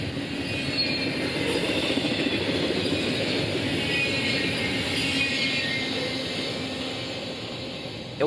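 Freight train I-159 loaded with international shipping containers rolls past in upstate New York, a steady, continuous rumble of wagons and wheels on rail holding at an even level throughout, with no talk.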